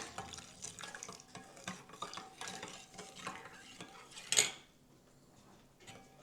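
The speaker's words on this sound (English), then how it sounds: "I'm gonna add the milk, give it a little stir." Milk, instant yeast and sugar are stirred in a bowl for Norwegian school bread, a close scraping swirl with a sharp clink near the end before it falls quiet.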